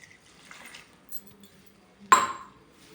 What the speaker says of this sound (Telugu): ఒక గ్లాసు వాటర్ పోసుకుందాం